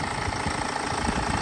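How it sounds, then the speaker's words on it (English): The 2010 BMW X1 18d diesel engine idles after a crankshaft pulley replacement, with a steady, even rumble and knocking texture, close and continuous with no talk. "Engine's running,"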